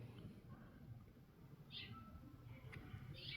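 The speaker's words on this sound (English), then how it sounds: "Look at the birds, y'all." Small birds around a backyard feeder give a few faint, high chirps and short calls, distant and sparse over a quiet low outdoor rumble.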